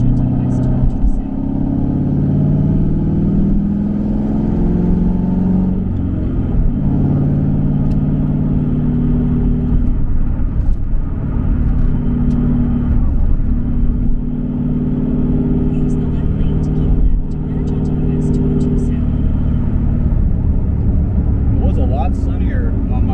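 Inside a straight-piped Ford Mustang GT 5.0 V8 on the highway, a loud, continuous low exhaust rumble drones steadily with slight swells, and a voice talks over it throughout.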